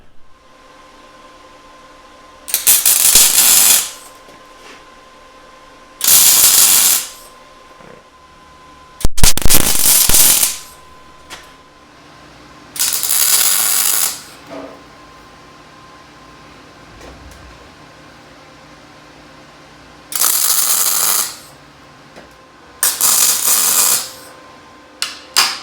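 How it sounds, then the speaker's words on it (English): A shop-made pipe bar clamp is tack welded in six separate loud bursts of harsh crackling buzz, each lasting about one to two seconds, with quiet gaps between them. "Now I'm going to tack everything together."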